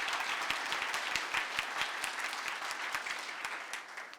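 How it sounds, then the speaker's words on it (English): Applause from an audience at a 2022 newcomer recognition award ceremony, a sustained, moderately loud wash of many hands with sharp individual claps standing out throughout. "they really do deserve a round of applause"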